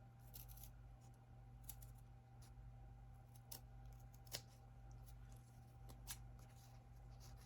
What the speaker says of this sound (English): Let's just see if I can get this little circle with these big scissors.